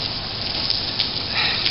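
Rain mixed with light snow falling outdoors on a January day, a dense steady hiss of drops pattering on surfaces, close and even throughout with no voices.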